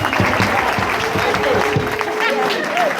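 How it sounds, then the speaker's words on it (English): Guests at a retirement party applaud for the retiree, a loud, dense wash of clapping sustained throughout with a few voices and cheers mixed under it. "let's have a round of applause for Daddy"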